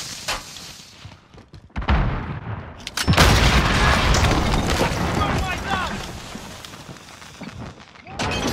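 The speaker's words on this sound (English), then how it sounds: "Throwing smoke! Sending shots!" Gunfire and booming explosions in the Warzone video game, dense and loud with a heavy blast around the middle of the clip, while a player talks over the din.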